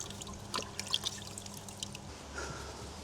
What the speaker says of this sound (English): But just give it a rinse off.